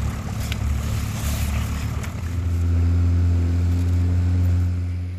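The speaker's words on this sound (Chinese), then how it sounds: "好不容易终于发动引擎" A small boat's outboard engine in a polar fjord runs after a hard start, a low steady motor drone that swells louder and smoother partway through, with faint clatter over it.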